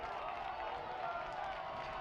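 Home crowd at a high school football game, Brookings Bobcats against Sioux Falls Roosevelt, a steady broad roar of cheering and voices held at an even level throughout, with no break or single clear shout.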